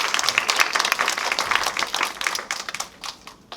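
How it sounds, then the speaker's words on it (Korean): A congregation gives a youth church service at a Korean Full Gospel church a burst of dense applause that fades gradually over a few seconds. "정말 좋은 말씀 주신 최정 목사님을 향해서 우리 박수로"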